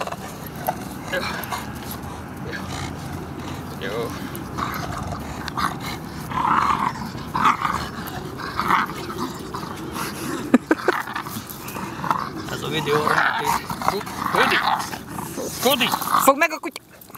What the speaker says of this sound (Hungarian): Fogd meg a kutyát.